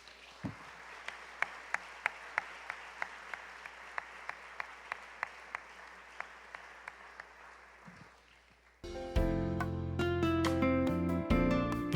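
Members of a church congregation clap in slow unison, a steady run of sharp claps over a soft room murmur, then music swells in and takes over near the end.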